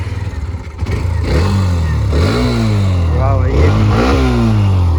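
A Hero Xtreme 125R motorcycle engine starts and then revs repeatedly, loud and close, with rising and falling pitch on each throttle blip, while someone speaks briefly over the start.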